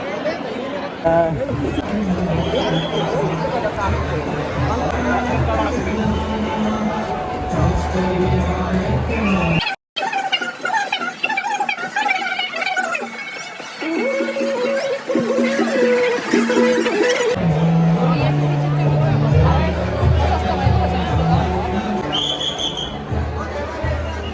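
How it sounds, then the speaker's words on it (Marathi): Dense crowd chatter from a large gathering at a Ganpati darshan in Pune, a steady hubbub of many voices close by, with a brief dropout partway through. "मित्रांनो एवढं गर्दी फक्त बाप्पाची"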